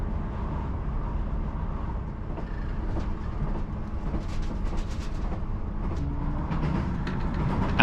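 Steady rumble of a ScotRail train running on the Far North Line from Inverness to Wick, heard from onboard, with low continuous engine and track noise and occasional faint clicks and rattles.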